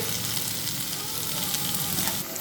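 Chopped onions sauté in a hot pan with turmeric and coriander powder while a Kerala-style mutton roast is being made. A steady, dense sizzle crackles close and loud throughout, with no talking over it.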